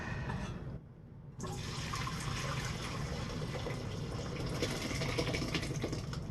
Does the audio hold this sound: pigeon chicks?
no